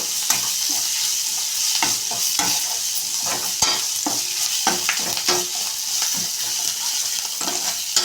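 A paste of green chili, coconut, salt and garlic fries in a pan with a constant crackling sizzle, while a spatula scrapes and taps against the metal at an irregular pace.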